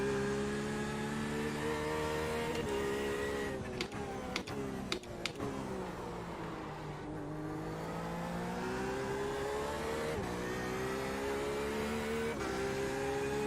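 Porsche RSR race car engine in iRacing at Daytona holds a steady high drone, dipping and rising through shifts and braking with a few sharp clicks, then building again as it accelerates, close and alone without talk.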